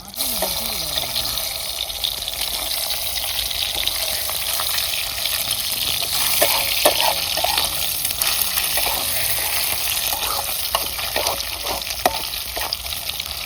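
Eggs frying in a pan for bhurji give a steady, close, dense sizzle that runs throughout, dotted with scattered clicks and taps from the utensil.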